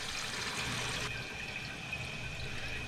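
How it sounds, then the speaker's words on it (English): Water rushing into a toilet tank as it refills after the supply valve is turned back on, following a flush valve gasket replacement; a steady, close hiss of flowing water runs throughout. "Now we can turn the water on counterclockwise."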